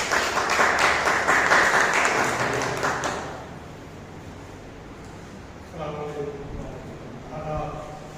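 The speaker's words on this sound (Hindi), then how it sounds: "तालियों के साथ" Audience applause at a company launch event on stage, a burst of clapping for about three seconds that fades out, followed by a quieter stretch with a voice speaking.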